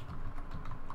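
Quick, steady keystrokes rattle on a computer keyboard as code is entered, a short close burst of clicks with no voice over it.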